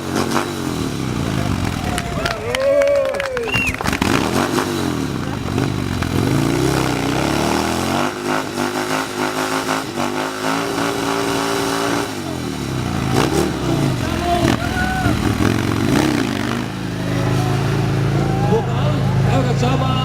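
A motorcycle engine revs at a drag race stunt show in Murska Sobota, loud and continuous with repeated throttle swells, while crowd noise and a commentator's voice carry over it throughout.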